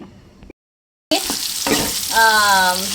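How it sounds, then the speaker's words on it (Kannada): Onion, garlic and mustard seeds hiss and sizzle in hot oil, broken by a brief silence, then stirring scrapes and a rising tonal squeak near the end. "ಈರುಳ್ಳಿ ಬೆಳ್ಳುಳ್ಳಿ ಸಾಸಿವೆ ಹಾಕಿದ್ದೀನಿ ಇದು ಕೆಂಪಾಗೋ ತನಕ ಬಾಡಿಸ್ಕೊತೀನಿ"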